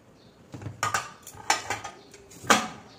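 Dishes and cutlery clatter while rice is served at home, with several distinct clinks and knocks spread over a few seconds, fairly close and otherwise quiet.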